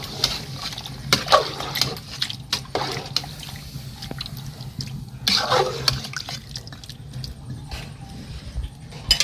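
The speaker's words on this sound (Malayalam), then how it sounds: "ഇനി വെള്ളം ഒഴിച്ചു കൊടുക്കാം കുറച്ച് വെള്ളം" Water is poured into a pot of chicken curry in a few short splashing bursts, with quieter kitchen sounds in between.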